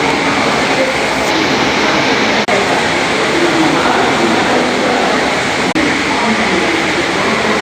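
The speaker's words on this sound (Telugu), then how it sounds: "రైల్వే స్టేషన్కి ఇటు వచ్చాం" Loud, steady rumble of a train at a railway station in Warangal, a dense continuous roar with broad hiss that runs unbroken throughout, dominating the scene.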